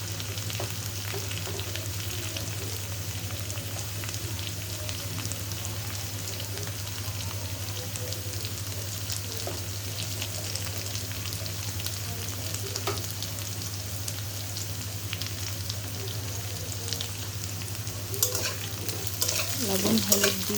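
Potatoes frying in a pan for a village-style Bengali curry with tengra fish and bori, stirred steadily; a continuous close sizzle with scraping stir strokes, a low hum beneath, and busier clatter near the end.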